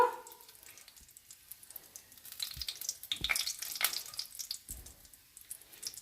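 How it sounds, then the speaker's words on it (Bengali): Whole cumin seeds, a star anise and small cardamom pods fry in hot oil in a home kitchen, giving a soft, steady sizzle with a few louder crackles and faint stirring. "ফোড়নটা একটু ভাজা ভাজা করে নেব"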